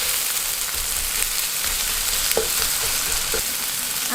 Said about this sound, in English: add the onions and fry the onions in the oil